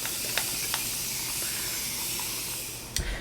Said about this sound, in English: we're just going to water these seeds in with a spray bottle